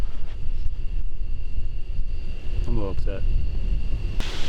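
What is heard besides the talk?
wind blowing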